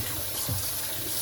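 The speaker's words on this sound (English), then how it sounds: "right now I'm just rinsing off the dirt on my greens" Garden greens are rinsed under running tap water, a steady continuous splash and gush close by with no talking.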